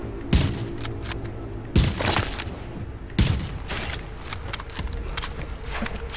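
Gunfire in the video game The Division, sharp repeated shots with three louder cracks over a steady din of rapid fire and clatter, no voices.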